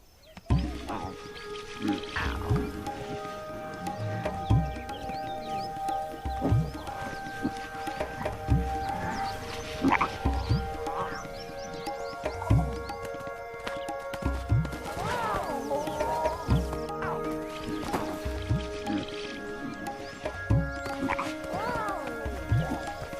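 Two 24-month-old desert lion cubs in India play fight, giving repeated close growls and grunts in a busy, continuous stream of rough vocal bursts over steady background sound.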